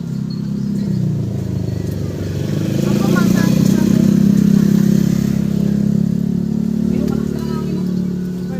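A motorcycle passes outdoors on a windy day where a kite is being flown, its mid-pitched engine rising and fading over several seconds beneath steady wind and people talking.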